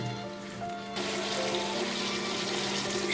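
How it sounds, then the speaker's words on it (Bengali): Water is poured into a pan of potol (pointed gourd), potato and soyabean curry, a steady broadband splash and trickle that starts abruptly after a brief moment of quieter simmering and continues without a break. "সামান্য একটু জল অ্যাড করলাম আবারও।"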